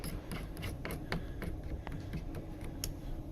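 A Stanley knife trims a small piece of material during work on a Ford Mondeo, giving faint, quick scraping and ticking cuts in an uneven rhythm close by.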